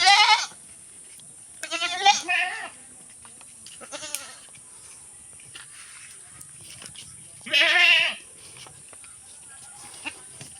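Several loud goat bleats close by, spaced apart with quiet gaps, one long wavering bleat near the end.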